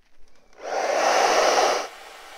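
A hair dryer blows on wet acrylic paint on a pansy petal, a single steady whooshing burst of about a second and a half, close and loud, starting and stopping abruptly.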